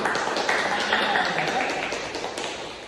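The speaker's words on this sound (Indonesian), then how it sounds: "Betul, tepuk tangan" Brief classroom applause from students, a quick patter of claps mixed with chatter and fading over a few seconds.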